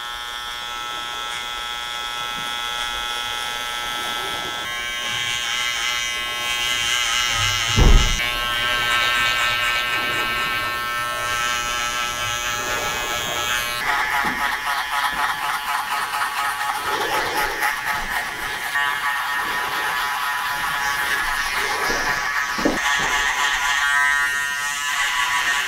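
Electric hair clippers buzz steadily and up close throughout a mid fade haircut with a short textured top, the motor whine continuous with small shifts in pitch and one brief thump partway through.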